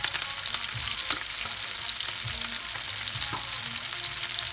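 Onions and thyme frying in a pan for a brown stew yellowtail snapper, a steady close sizzle with occasional soft stirring scrapes.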